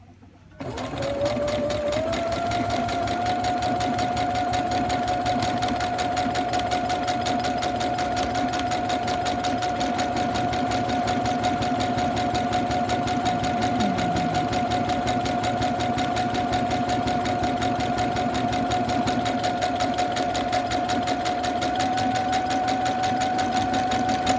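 A sewing machine stitches a buttonhole with a steady, continuous mechanical whir and hum. It starts after a brief silence and runs loud and close, without a break, for the rest of the clip.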